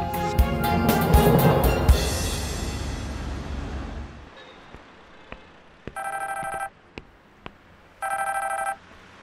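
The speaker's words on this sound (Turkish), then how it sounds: "Hadi Gülseren, aç şu telefonu" A telephone rings in two long electronic bursts after a loud noisy passage fades, with quiet clicks and gaps between rings.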